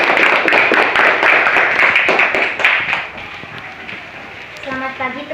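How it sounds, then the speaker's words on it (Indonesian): Classmates clap for a student stepping up to present in a school counseling lesson, several seconds of brisk, close clapping that fades out, followed by a voice starting to speak. "Tepuk tangan dulu untuk teman kalian"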